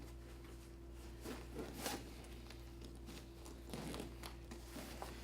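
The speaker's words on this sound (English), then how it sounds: "If I can unzip that, I'll show you my gear." Faint, scratchy zipper pulls open the pocket of a camera gear bag in several short strokes over a steady low hum, quiet and close with no talking.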